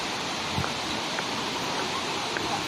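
The Putuk Truno waterfall gives a constant broad roar of falling water, steady and enveloping, with faint scattered taps and rustles beneath the hiss.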